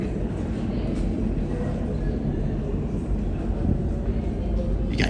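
A New York City subway train rumbles steadily and loudly close by, a dense low roar with rattling wheel and car noise throughout.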